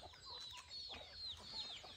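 Chickens cluck and chatter continuously on a farm near a river in Pará, a close, steady flock sound with overlapping calls and no talk.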